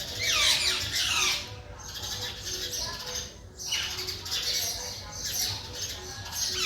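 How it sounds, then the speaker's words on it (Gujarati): A group of four parrots squawks outdoors, giving repeated loud, harsh calls in bursts, with quieter chirps between them. "જોઈ શકો છો પોપટ પણ આવી ગયા છે."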